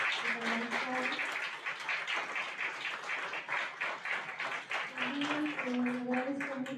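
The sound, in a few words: audience applause for the organizing teams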